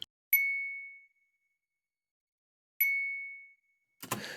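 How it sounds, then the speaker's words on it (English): Phone notification chime in its original form before pitch and attack edits: two clean, bright single dings about two and a half seconds apart, each with a sharp attack and ringing decay, followed by a brief rustling noise. "It's actually this chime."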